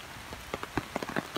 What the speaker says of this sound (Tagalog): Grabe tong ulan na to.